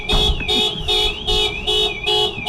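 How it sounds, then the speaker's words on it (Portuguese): A car alarm blares just outside a door, its siren tone sweeping up and down in steady repeating pulses, loud and close, with faint background noise and no talk. "temos um alarme de um carro aqui à porta, em direto"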